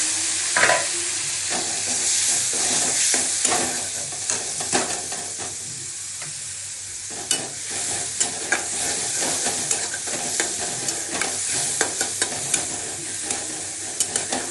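A ginger, garlic and green chilli paste fries in a hot pan with a steady, close sizzle. Sparse clicks and scrapes of stirring cut through the hiss throughout, and no one speaks.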